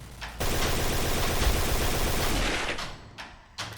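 Rapid automatic gunfire from a gun in the video game Point Blank, a dense loud burst lasting about two and a half seconds, followed by a couple of short separate shots.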